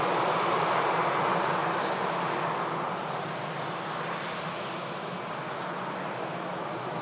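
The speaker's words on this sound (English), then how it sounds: "Here's the Copenhagen Ryanair." A Ryanair jet arriving from Copenhagen at Manchester Airport gives a broad, steady engine rumble that is loudest at first and eases gradually over seven seconds, with no talking.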